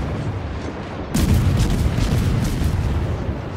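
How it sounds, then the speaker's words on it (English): Naval gun shots from the Japanese cruiser Atago in World of Warships, a sudden loud booming burst followed by sustained rumbling blast noise at close range. "here comes some actually pretty accurate shots by the Atago"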